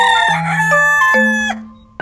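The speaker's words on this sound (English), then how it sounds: "Chicken." A rooster crows loudly and close by in one long, clear cock-a-doodle-doo with several rising and falling pitch steps, heard alone with no voices over it.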